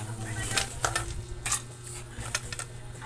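Hard clattering and knocking of whole ice cubes tumbling into a blender for an avocado shake, several sharp rattles over a low steady hum, with no voices.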